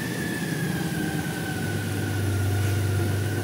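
A 2022 Honda Goldwing motorcycle engine runs at a steady idle nearby, giving a continuous low hum with a faint whine above it and no change in pace.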